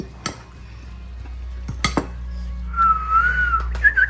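A whistle is blown in a home kitchen, rising as a wavering tone in two stretches after a few sharp clatters of dishes and cutlery. There is no talk.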